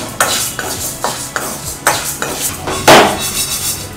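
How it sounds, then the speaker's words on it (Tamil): A utensil scrapes and knocks against a pan in a steady rhythm as idli podi ingredients are dry-fried and stirred, with a louder clatter near the end and no talking. "அதனால் இதை கிண்டிக்கிட்டே தான் இருக்கணும்."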